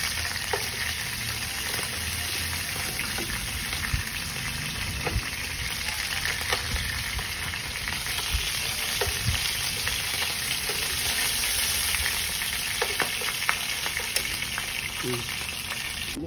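Pork liver fries in a pan with a steady, close sizzle and occasional clicks and stirring knocks, continuous for about sixteen seconds with no talking.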